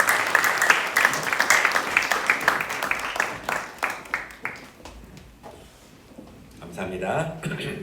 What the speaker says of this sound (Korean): 한번 두 분께 격려와 하나님께 영광의 박수 올려드리겠습니다